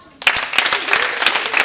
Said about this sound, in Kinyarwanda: mwayikomeye amashyi